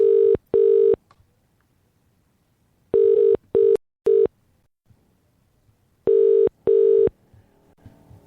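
Three pairs of telephone keypad dialing tones, each a short two-beep burst, sound loud and clear with silent gaps between, during a phone canvassing session.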